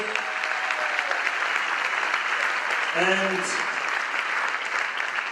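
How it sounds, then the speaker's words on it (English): A large banquet audience applauds steadily at a 175th anniversary gala dinner, the dense clapping filling the room while a voice briefly speaks over it. "Let's give them a round of applause."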